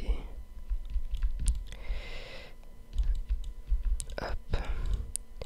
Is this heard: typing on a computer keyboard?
yes